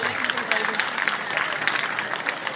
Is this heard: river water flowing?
no